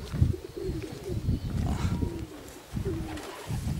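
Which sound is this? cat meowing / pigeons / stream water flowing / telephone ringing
pigeons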